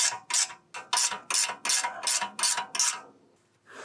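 A ratchet clicks in quick, evenly spaced bursts, about nine strokes, while tightening a tie rod nut on a BMW E46 front suspension. The sound is close and alone, with no talk.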